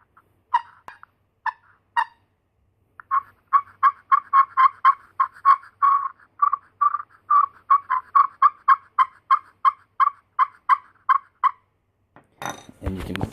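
A friction turkey call scratched with a hollow plastic striker in a series of short, high yelps, first a few spaced notes then long rapid runs, followed by brief scraping.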